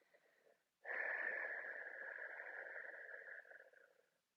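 A long, slow exhale during a guided breathing exercise, a steady airy rush close to the microphone lasting over three seconds and tapering off at the end, with no talk.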